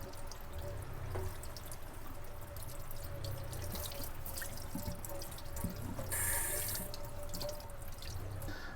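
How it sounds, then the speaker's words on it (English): Tap water runs steadily into a sink while raw beef tongue is rinsed under it, a continuous close splashing hiss with brief shifts in flow and no voices. "I'm going to take and just rinse all this off really well."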